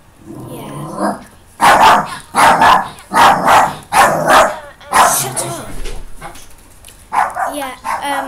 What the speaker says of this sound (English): My dog won't shut up, he's so annoying.